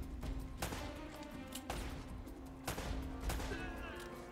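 Gunfire from the video game Uncharted: Drake's Fortune, several sharp shots spaced across the clip over a steady game backdrop with a faint voice.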